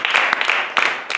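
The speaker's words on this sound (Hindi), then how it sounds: "क्या आप ताली दे सकते हैं?" Congregation applause at a church service: a sustained, dense wash of many hands clapping, fairly close and steady, with brief swells in intensity.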